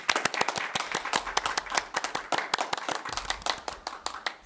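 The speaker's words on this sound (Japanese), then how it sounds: "ゴミ分別さんにもう一度大きな拍手をお願いします。" Applause at a hackathon demo day, crisp close handclaps from a small group in a quick uneven patter, steady for several seconds with no talk over it.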